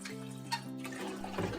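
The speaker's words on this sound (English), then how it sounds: "she carefully washes the soybeans several times" Soybeans are washed by hand in water, with a soft continuous splashing and swishing of liquid, close and fairly quiet, under a low steady hum.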